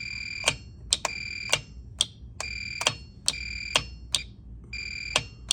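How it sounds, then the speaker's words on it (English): A golf cart solenoid under test gives repeated sharp electronic beeps, about a dozen evenly spaced chirps, close and clear over a quiet background. "If it doesn't beep when you cross there, then that means the solenoid is no good."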